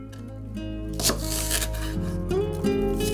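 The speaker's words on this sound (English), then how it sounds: "I sliced up some spring onions, just cutting the ends off first and then cutting them into batons" A knife chopping spring onions into long strips on a board, several quick crisp cuts close up against a background music bed.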